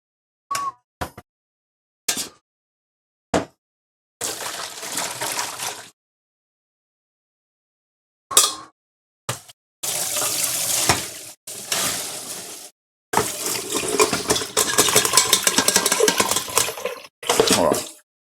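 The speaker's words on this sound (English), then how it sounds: "Let me quickly drain them and rinse them under cold water." Cooked noodles are drained through a sieve and rinsed under a cold running tap. Sharp clanks and knocks are broken by silences, then longer bursts of rushing, splashing water come and go, all close by.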